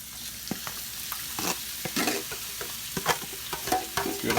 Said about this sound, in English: Let's get these veggies sauteed down